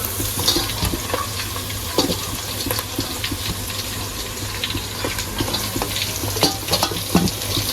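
Bite-sized pieces of Gujarati patra, colocasia leaf rolls, go into a hot pan and fry with a steady close sizzle, broken by scattered clinks and scraping stirs.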